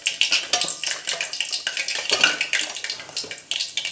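Mustard seeds tempering in hot oil for a spicy milk curry. Light, close crackles and pops scatter irregularly, mixed with a few soft clinks from the pan.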